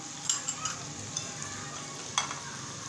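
Potatoes fry and are stirred in a pan, a steady soft sizzle broken by a few sharp scraping clicks of the spoon, moderately quiet and close, with no voices.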